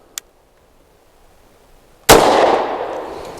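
A single sharp shot from a Taurus TH45 pistol firing SIG Elite Performance V-Crown 230 grain ammunition, loud and close, ringing out briefly after a faint click.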